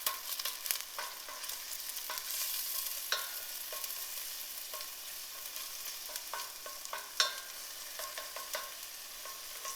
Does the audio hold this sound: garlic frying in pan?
yes